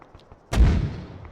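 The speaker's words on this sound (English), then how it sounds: "I'm hearing the thumping of a mortar" Mortar fire in the video game Arma Zeus: a single deep, booming thump with a long rumbling tail that fades out, heard once against faint background sounds.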